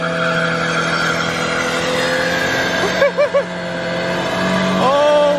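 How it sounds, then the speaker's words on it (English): A Subaru roasting its tires in a burnout, with a loud continuous tire squeal and a steady engine roar close by, and a brief warbling screech partway through. "Arcade is gonna roast the tires like he said in the last video in the Subi"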